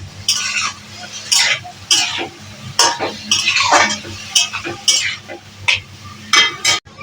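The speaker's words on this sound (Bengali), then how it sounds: "এখন একটু নাড়িয়ে নেব।" Fried broken wheat (dalia) being stirred in a pot, with repeated scraping strokes and clinks of a metal spoon over a low sizzle, in an irregular rhythm of short bursts.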